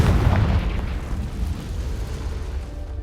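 Confringo blasting spell explosion in the Hogwarts Legacy video game: a loud, close boom that quickly decays into a rumbling tail over about three seconds.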